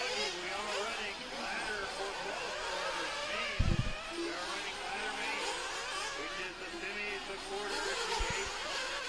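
Radio-controlled buggy race cars on an outdoor track, a steady buzzing whine of small motors lasting throughout, with a race announcer talking over them.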